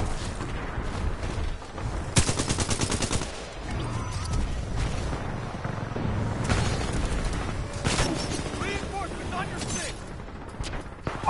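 Gunfire from the video game Titanfall 2, rapid shot bursts and booms recurring through the clip, loud and close, mixed with game sounds and a player talking over it.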